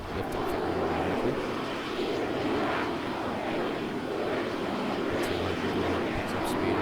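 Jet aircraft accelerating down the runway and lifting off in the military game ARMA 3, flaps down: a steady, loud engine roar holding constant throughout, with no pauses.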